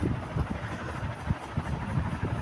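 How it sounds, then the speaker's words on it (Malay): An electric fan spins steadily after its bearings were serviced, giving a continuous low airy whoosh with a faint rumble and soft periodic thumps and no grinding, heard close with no speech. "Hanya bunyi angin kipas berpusing tu je."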